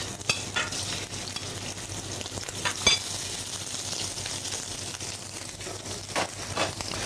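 Small shrimp fry steadily in a pan with a continuous crackling sizzle, a few louder stirring scrapes and clinks rising above it, no voices.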